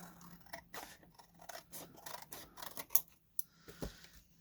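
Scissors snip through a paper scrapbook page in a quick series of soft, close crisp cuts, with light rustling of paper between strokes and no voices.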